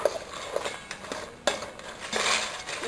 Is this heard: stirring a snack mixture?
yes